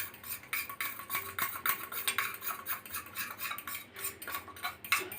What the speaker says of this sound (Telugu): నెక్స్ట్ ఆ నూనె ఉన్న బౌల్ మొత్తం చక్కగా మిక్స్ చేసుకోవాలి